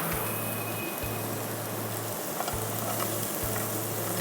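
Chopped onion fries in hot mustard oil with garlic, a loud, dense sizzle with crackling spatters that runs continuously and close, with no one talking.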